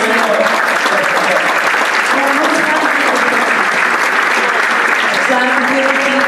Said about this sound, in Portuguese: Uma grande, grande aplauso a esse momento.